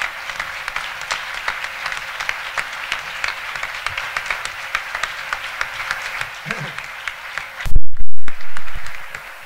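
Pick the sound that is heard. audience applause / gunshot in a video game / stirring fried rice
audience applause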